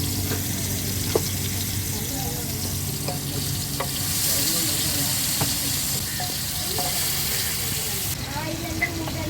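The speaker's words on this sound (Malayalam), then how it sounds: "നമ്മുടെ മീനൊക്കെ എടുത്ത് എണ്ണയിലോട്ട് ഇടുകയാണ്" Masala-coated fish sizzles loudly in hot oil at a roadside stall, a dense continuous frying hiss with occasional pops and stirring clinks, close and steady throughout.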